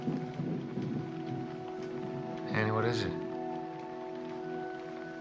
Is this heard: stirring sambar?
no